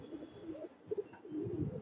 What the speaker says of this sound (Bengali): ভালো নট দিলে সিলভার কবুতর এগুলা